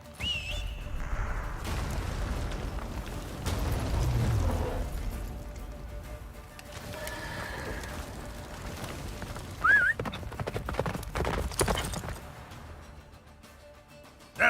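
A horse gallops through a blizzard in The Witcher 3, with a steady rumbling run, a sharp whinny near the middle and whistling wind over the hoofbeats, with no talking.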